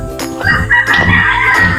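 Tethered Texas gamefowl roosters crowing and clucking loudly up close during feeding, a strained drawn-out crow over throaty calls.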